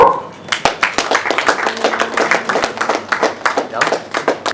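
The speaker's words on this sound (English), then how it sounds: "A big round of applause for Mr. Bhimal Ghosh." Audience at a cricket league press conference clapping in distinct, fairly close claps, with speech heard over the clapping.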